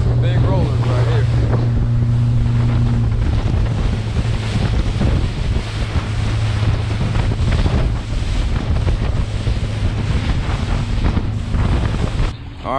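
Big ocean rollers on the Gulf near Gulf Shores, Alabama, heard from a boat as a constant roar of strong wind buffeting the microphone over surging water, with an engine hum underneath and a voice speaking.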